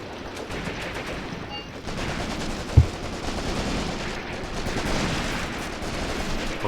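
Distant gunfire in the WWII tactics game Graviteam Tactics: Mius-Front, a dense rattle of machine-gun bursts and rifle shots over constant battle noise, with one heavier thump midway.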